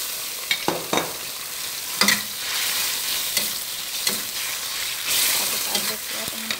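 Fish is stirred in a boiling, sizzling pan of Taiwanese-style stir-fried choy sum, with repeated scraping strokes of the spatula over a steady close frying hiss and no voices.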